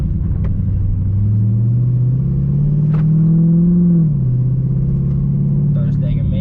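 A Dodge Charger Hellcat heard from inside the cabin, its engine droning loudly and steadily, rising in pitch as it accelerates and then dropping after a shift, with a faint click at the end.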